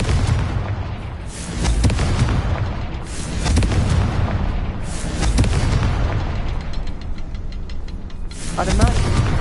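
Confringo explosion spell in Hogwarts Legacy, with heavy booming blasts and rumbling bursts repeating over a loud game soundscape, and a voice speaking briefly among them.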